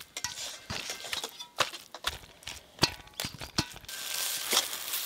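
Pointed gourd being stirred in a pan with masala until the water dries off, a spoon knocking and scraping against the metal in irregular, clinking strokes, close and fairly quiet, ending in a soft sizzle.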